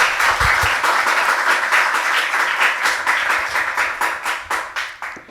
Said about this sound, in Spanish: le damos la bienvenida con el caluroso aplauso